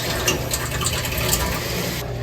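Water rushes steadily into a repaired well supply line system, a continuous close gushing fill with no pauses, ending in a quieter tail.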